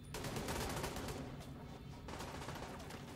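Rapid gunfire in The Division 2, a dense burst of automatic shots packed tightly together, loud and continuous with a short gap before firing resumes.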